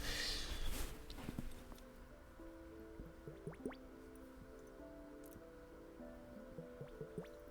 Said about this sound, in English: It's a really small water globe.